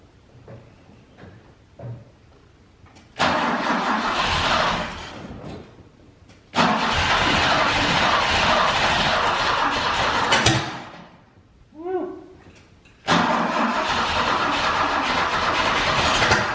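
A 1968 BMW 1602 that is hard to start cranks and catches after quiet ticking, then runs loud and rough, rich and choking, dying back twice with a quick rev between before settling into a steady idle.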